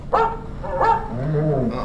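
Two sharp dog barks ring out close by, followed by a lower whining growl.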